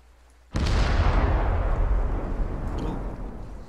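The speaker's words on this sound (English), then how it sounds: "Big explosion." A big explosion in a military video game erupts with a sudden loud boom and then rumbles and roars on, slowly fading, with no one talking over it.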